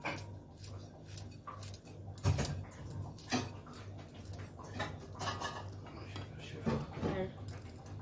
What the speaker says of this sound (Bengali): লাউটা আমি এভাবে একদম কুচি কুচি করে, এই দেখুন সরু সরু করে কেটে নেব।